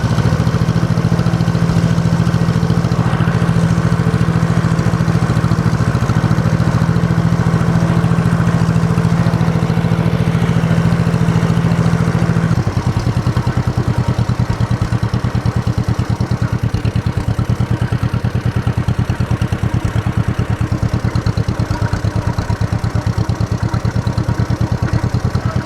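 A running engine on old threshing-show machinery with a freshly cleaned carburetor sits at a steady, loud idle, its tone shifting partway through to a rougher, pulsing beat that carries on to the end, with no voices.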